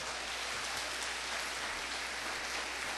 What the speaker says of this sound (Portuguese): Você pode aplaudir Jesus nesta noite?